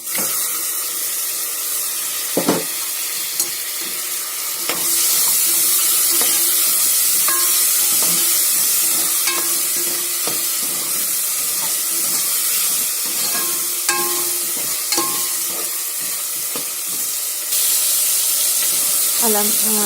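Tomatoes frying in a pan with ginger-garlic paste for vegetable rice, a steady sizzle with intermittent stirring and scraping clatter, close and fairly loud throughout.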